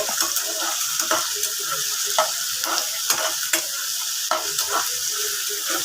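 Onions frying in a pan until brown for an egg fry, a continuous sizzle with periodic scrapes of a utensil stirring against the pan, close and steady with no voices.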